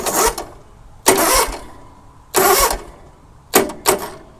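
Zero-turn mower engine cranking but failing to start: four short, loud bursts of starter churning, each cutting off abruptly after about half a second, separated by silent gaps.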